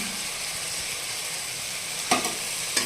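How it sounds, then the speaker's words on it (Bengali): Spice masala in a pan with added water and salt, a dense steady sizzle and bubbling, then two sharp scraping stirs near the end, close and fairly loud with no voices. "দিয়ে ভালো করে নাড়াচাড়া করে নেব"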